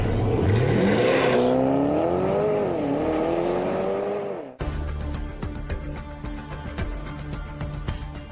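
A Porsche Panamera four-door sports car accelerates hard, its engine note climbing loudly and steadily, then a sharp break and a rougher, throbbing roar as it pulls on.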